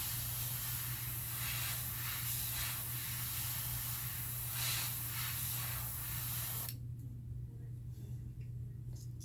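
Airbrush spraying paint onto cardboard behind a fishing lure's gill plate, a steady close hiss with soft pulsing bursts, under a low hum, stopping abruptly before the end.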